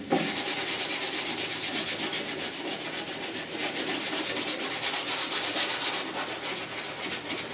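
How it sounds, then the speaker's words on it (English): Continuous rhythmic rasping of 80-grit sandpaper blocking body filler on the upper cowl and firewall rust repair of a 1969 Chevy C10, close and steady strokes with no talk. "Let's 80 grit it and see what we get."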